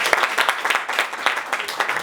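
A comedy club audience claps briskly in a dense, steady burst of applause, fairly close and lively throughout, with no talking over it.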